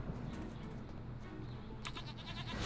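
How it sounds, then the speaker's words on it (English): Faint goat bleats in the video game Jade Empire sound under a quiet background hum, with a few brief clicks and rustles toward the end. "Goats, lovely."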